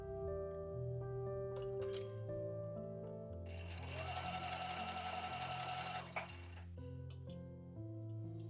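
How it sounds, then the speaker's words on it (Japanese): A sewing machine runs in one continuous burst of rapid stitching through fabric for a large pouch, close and fairly quiet, with soft background music before and after. "まず中心から縫いますね。"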